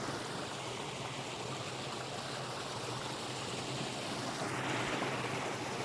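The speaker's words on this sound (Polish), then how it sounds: "przed nim również gwałtownie spadająca woda" Steady rushing water of the Bielawa stream in the Owl Mountains, Poland, a dense continuous broadband roar with no breaks, growing slightly louder toward the end.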